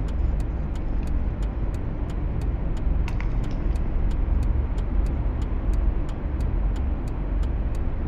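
A 2014 Mercedes-Benz E-Class in the City Car Driving video game cruises with a steady, loud engine drone and road rumble, regular faint clicks ticking across the whole stretch.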